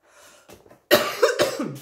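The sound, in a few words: cough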